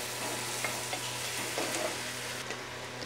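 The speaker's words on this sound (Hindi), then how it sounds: "अब मैं इसमें ऐड कर दूँगी प्याज जो मैंने 2 मीडियम साइज़ के काट के रखे थे, इसे अच्छे से फ्राई करूँगी।" Chopped medium onions and green chillies fry and sizzle steadily in a pan while being stirred for egg dum biryani, a constant close crackle with occasional soft scraping and no talking.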